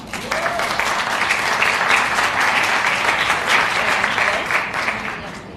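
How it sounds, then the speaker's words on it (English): Sustained audience applause for a climate change panel at a conference, steady and dense from start to finish, loud and close, with no break in the clapping. "can we please hear another round of applause for our wonderful panel?"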